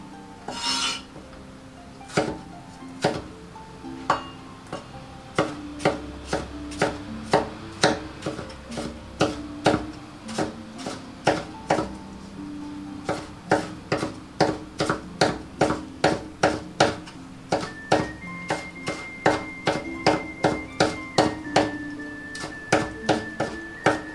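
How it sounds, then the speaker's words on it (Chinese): A knife chops tomato flesh on a cutting board in a home kitchen, sharp repeated taps in a steady quickening rhythm, close and alone with no talk. "再把番茄果肉切碎"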